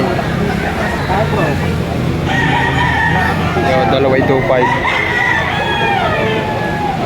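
Roosters crow repeatedly at a busy Padre Garcia, Batangas livestock market during a storm, their drawn-out calls overlapping one another and someone talking close by amid crowd noise.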